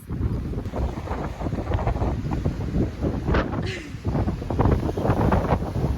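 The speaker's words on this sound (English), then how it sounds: "Just to show how windy it is" Strong wind buffets and roars against the microphone in uneven gusts, loud and close, with no clear speech, in Corfu Town, Greece.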